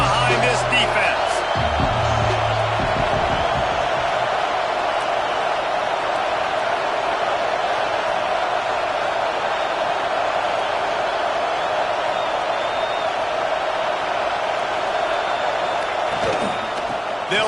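A stadium crowd at an Arkansas vs Notre Dame football game roars steadily behind the defense on a big third down, a broad, continuous wash of cheering that holds for the whole stretch with commentary over it.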